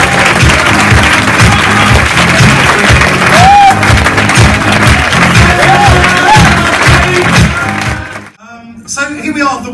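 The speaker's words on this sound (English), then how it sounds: "I want more applause than we got for everybody else" Loud applause and cheering at a staff awards ceremony, with whoops and shouts over rhythmic music, sustained for about eight seconds before cutting off as a voice begins to speak.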